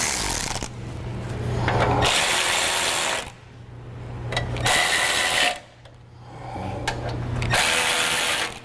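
Ratchet tightening the mesh cover bolts on a Go Rhino front bumper for a Jeep Wrangler JK: three long bursts of rapid clicking, loud and close, separated by brief pauses.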